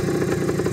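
A 1974 Yamaha DT360A motorcycle engine, running rich in the mid-range, runs steadily with a busy mechanical clatter, close and loud with no voices over it.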